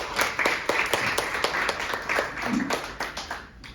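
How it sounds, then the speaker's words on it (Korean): Audience applause at a press conference urging creation of a North Korean human rights foundation: a crowd claps steadily with sharp, dense hand strikes that thin out toward the end, close and fairly loud. "박수 함께."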